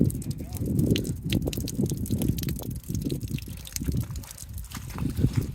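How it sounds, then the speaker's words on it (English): Water trickles and drips steadily from a prospecting sieve at Crater of Diamonds in Arkansas, a close, uneven patter and dribble running throughout. "We'll let the water drain."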